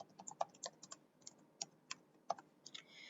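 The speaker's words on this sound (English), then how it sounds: "Look at me typing." Computer keyboard keys tapped in quick, uneven bursts of sharp clicks, close and fairly quiet, with brief pauses between the runs of keystrokes and no talking.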